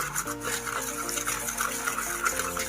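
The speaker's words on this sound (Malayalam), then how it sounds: "സ്പൂൺ വെള്ളം കൂടെ ഒഴിക്കാം" A spoonful of water is poured over instant coffee powder and sugar for homemade cappuccino, a short, soft, continuous trickle close up.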